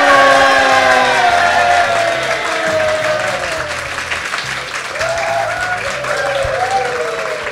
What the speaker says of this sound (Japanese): 素晴らしい拍手ね